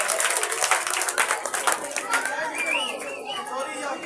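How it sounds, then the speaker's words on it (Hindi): A young audience at a children's 14 August program claps in a quick, bright burst mixed with chatter, the clapping thinning out as a voice carries on over the crowd noise. "तालियां तालियां बच्चों के लिए तालियां।"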